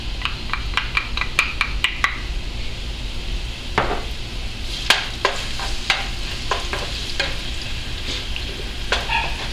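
Onion frying in a pan for ají de gallina gives a continuous soft sizzle, punctuated by sharp clicks and taps of a utensil against the pan as it is stirred.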